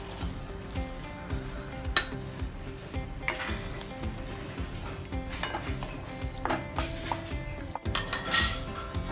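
With the gas turned up, a little water goes onto tomatoes that have melted down in a pan for a tomato chutney, raising a loud, close, continuous sizzle with scattered clinks and scrapes of a utensil on the metal.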